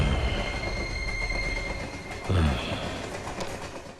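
The Guruvayur passenger train runs past with a steady loud rumble, its wheels squealing and grinding on the rails, heard close and continuous throughout.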